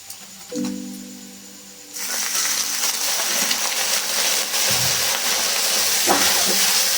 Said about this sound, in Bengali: আদা রসুনের পেস্টটা আমি এভাবে ভেজে নিয়েছি দু মিনিট ধরে এবার এর মধ্যে একটুখানি জল দিয়ে দেবো